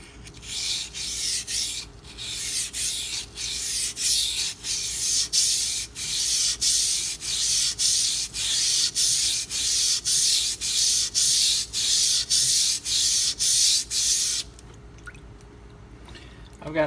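A Spyderco Endura 4 Wharncliffe knife is drawn over Pride Abrasives sharpening stones in a steady series of about twenty close, scraping strokes at a brisk, even rhythm, then goes quiet near the end.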